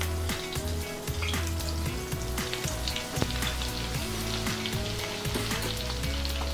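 Breaded chicken fries in 180-degree oil in a cast iron pan with a loud, continuous crackling sizzle. A low hum and occasional clinks run underneath it, and no one speaks.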